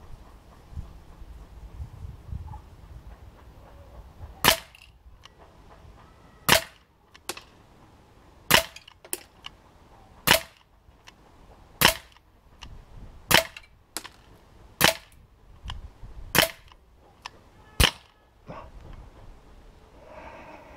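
Sig Sauer P226 4.5mm CO2 air pistol firing about a dozen sharp, loud cracks at uneven intervals of one to two seconds, close to the listener over quiet background.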